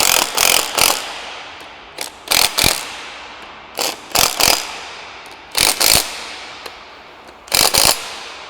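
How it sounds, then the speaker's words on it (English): An impact wrench with an impact socket gently running down bolts on a JBS E-Series beater gearbox, repeated short rattling bursts in quick pairs and triples with brief pauses between, close and loud with no talking. "Okay, impact socket. Gently run these down."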